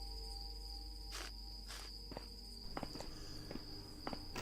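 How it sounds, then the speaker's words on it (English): Steady high cricket chirring fills a quiet room in a game map, faint and continuous, with soft footsteps crossing the floor over it. "The cricket sound still plays in this room because there's a direct path through the open doorway."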